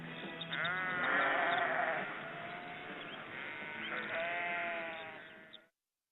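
Sheep bleat repeatedly and fairly near, wavering nasal calls that overlap across several seconds before cutting off abruptly.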